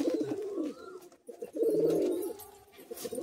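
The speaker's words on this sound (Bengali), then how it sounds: "দেখুন এই জোড়াটি আপনাদেরকে খাঁচায় ছেড়ে দেখাচ্ছি।" A pair of pigeons released into a cage coo softly in low, rolling bursts, close by, with a short pause in the middle and a faint rustle and chirp around them.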